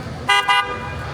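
A car horn on a New York City street, two short loud blasts close by, one right after the other, over steady traffic rumble.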